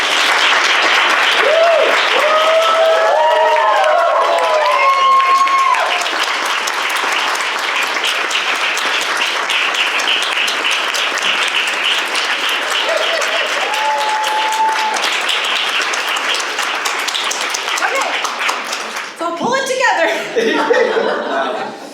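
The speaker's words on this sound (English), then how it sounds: "One more round of applause for Jalen and Michelle" A poetry-reading audience gives long, full applause for poets Jalen Eutsey and Michelle Peñaloza, steady clapping mixed with whoops and chuckles, tapering toward the end as a voice starts talking.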